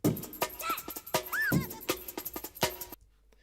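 A punchy breakbeat drum loop with crisp kicks, snares and hats in a quick funky pattern, cutting off abruptly near the end.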